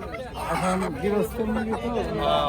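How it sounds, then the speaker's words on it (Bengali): Chickens clucking and squawking nearby at a riverside market, mixed with people chattering in a busy outdoor setting. "চরে থেকে এই মুরগিগুলো আসছে"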